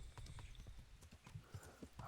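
Horse hooves clip-clop in a quick, uneven rhythm in the video game Kingdom Come: Deliverance, several horses moving together at a moderate distance with no talking.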